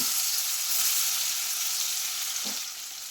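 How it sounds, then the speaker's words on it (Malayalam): Sliced plantain fries in a pan with a soft, continuous sizzle and one brief clink of a utensil near the end, with no talking. "ഇതുകൂടി ഒന്ന് ചെറുതായി ഒന്ന് ഫ്രൈ ചെയ്തെടുക്കാം"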